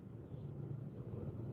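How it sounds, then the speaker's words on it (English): A helicopter passes overhead during an evening drive, heard from inside a car as a faint, low, steady rumble blended with road noise. Nobody speaks. "I think that's a helicopter."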